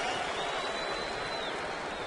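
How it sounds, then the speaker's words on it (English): A baseball stadium crowd lets out a somewhat derisive cheer during a bases-loaded at-bat, a broad, steady roar of many voices that holds at one level throughout. "And a somewhat derisive cheer from the crowd here at the stadium."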